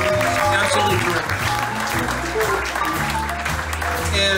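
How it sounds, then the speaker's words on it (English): An audience at a big band performance in a restaurant venue applauds. The clapping is dense and steady, with band instruments sounding and voices mixed in. "So please give a round of applause to everybody."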